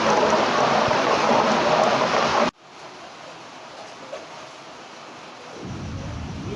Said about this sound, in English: it is raining heavily and I cannot talk